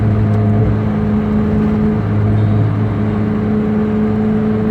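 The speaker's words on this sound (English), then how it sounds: "as the revs are climbing, the car should pick up speed and climb with it" A Mazda Miata MX5 (NA or NB, 1.6 or 1.8 engine) drones loudly from up close with a steady, humming engine tone that holds and shifts slightly in pitch as it accelerates, with no talking.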